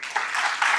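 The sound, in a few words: audience applause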